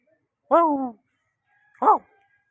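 Two separate dog barks, a longer one followed by a short sharp yap, sounding fairly close against a quiet background.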